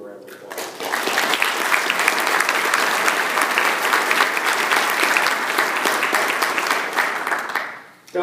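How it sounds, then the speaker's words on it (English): An audience at a military promotion ceremony breaks into loud, sustained applause, dense clapping for about seven seconds before it quickly fades out. "Let's give you a round of applause."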